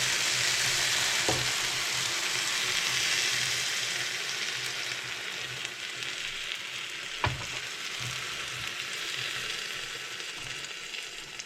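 Syrup poured onto a hot semolina almond cake fresh from the oven makes a soft, continuous sizzle and crackle, steady and fairly faint, with a couple of small knocks and no talking.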